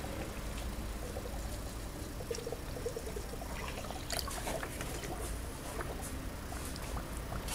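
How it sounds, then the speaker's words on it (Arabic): Water poured from a new jug into a Dacia car's reservoir: a steady, continuous pouring and trickling with gurgles, close and even in loudness, without talk. "هذا البيدون الجديد باش نصبولو الماء تو"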